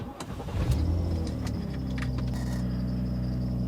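A car engine cranks briefly and then catches, settling into a steady idle that rumbles close by and continues without a break.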